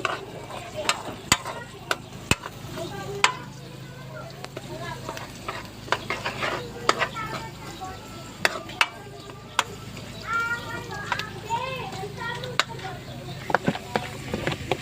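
Garlic sizzling in hot oil in a pan for ground-pork menudo, a steady close frying hiss broken by repeated sharp scrapes and clacks of stirring, with a voice talking over it.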